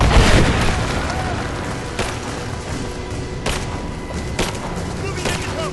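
Gunfire in Rise of the Tomb Raider, set in abandoned mines: loud, close bursts and booming shots ring out at irregular intervals over a dense rumbling battle bed, with game voices mixed in.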